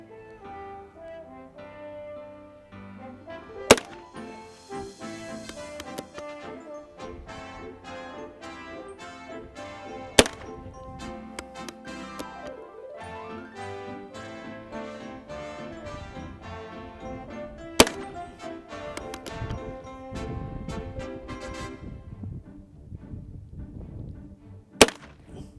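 Sharp, loud single revolver shots from a Heritage Rough Rider Rancher fired into a bag, four reports spaced several seconds apart over a continuous musical background.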